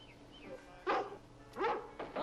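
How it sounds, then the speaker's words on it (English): A dog barks in a dramatic film scene: three or four separate barks, moderately loud over a quiet, low room hum. "The dog's still barking."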